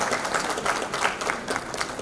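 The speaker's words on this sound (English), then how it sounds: "And please have one big round of applause for Aziz Bulani sahab." Audience applause at a CEO Club Pakistan business event, a steady wash of many hands clapping together, loud and close, filling the whole moment without talk.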